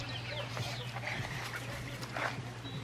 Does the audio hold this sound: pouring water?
no